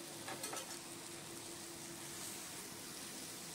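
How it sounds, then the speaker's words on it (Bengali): Ridge gourd slices coated in egg sizzle in a frying pan, a soft, steady hiss with a few faint stirring clicks near the start, quiet throughout. "এবার ডিম মাখানো ঝিঙেটা দিয়ে দিলাম"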